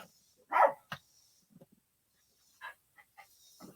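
A dog barks during a casual live stream at home, with a couple of sharp barks near the start and a few quieter yips and snorts after them, fairly close but not loud.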